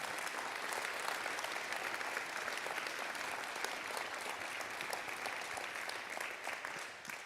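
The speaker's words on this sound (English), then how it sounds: "let's give him a round of applause" Sustained applause from a crowd, dense steady clapping that holds throughout and tapers slightly at the end.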